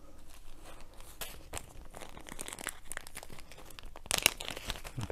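Plastic resealable bags of diamond painting drills rustle and crinkle up close in irregular bursts, with a brief sharper crackle near the end.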